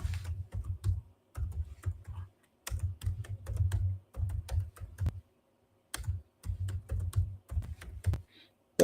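Fast keystrokes clatter on a computer keyboard in bursts separated by short pauses, close by and fairly quiet.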